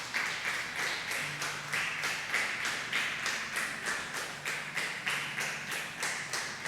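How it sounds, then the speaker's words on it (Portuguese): A church congregation claps in unison, a steady rhythmic beat of many hands roughly two or three claps per second, fairly distant and even throughout with no voices on top. "Você pode dar uma salva de palmas ao Senhor?"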